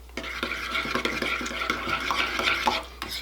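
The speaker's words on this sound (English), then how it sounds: "And we're just gonna mix this together" Sauce ingredients are mixed together in a bowl, with close, rhythmic scraping and clinking stirring strokes repeating quickly and continuously, and no voices.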